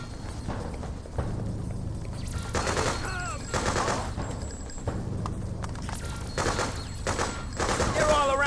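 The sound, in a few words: gunfire in the video game Freedom Fighters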